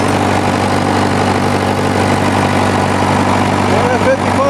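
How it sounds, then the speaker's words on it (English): A tractor engine runs steady and loud at close range, a constant low rumble with a dense mechanical drone and no clear rise in pitch. "So, let's rev it up a bit."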